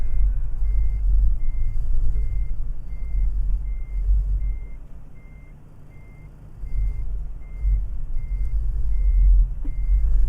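A truck in American Truck Simulator shifted into reverse sounds a steady series of evenly spaced reversing beeps over a loud low engine rumble, close and continuous, with no voices.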